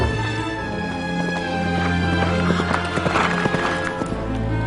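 A horse's hooves clip-clop in a steady, fast rhythm, close and fairly loud, with a whinny in the mix over a low rumbling background of dramatic music.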